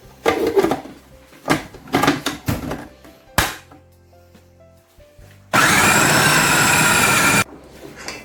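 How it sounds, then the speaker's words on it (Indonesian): A food processor grinds fish finely for pempek in a home kitchen, running as a loud, steady whir for about two seconds after some clattering knocks and thumps of handling. "Jadi kita giling halus dulu pakai food processor."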